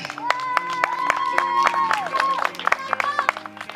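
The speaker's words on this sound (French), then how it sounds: "veuillez applaudir Psycho Duncan" At a CWF wrestling event, a crowd claps in scattered, sharp bursts as a wrestler enters, with a sustained tonal entrance music line and crowd voices underneath.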